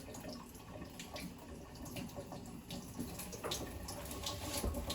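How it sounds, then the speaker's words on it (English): Filtered tap water runs over salad greens in a home kitchen sink, a faint, steady splashing and trickling with small irregular drips and rustles. "And I like to wash this first with some filtered water."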